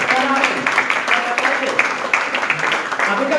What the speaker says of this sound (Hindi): एक जोरदार तालियों से स्वागत कीजिएगा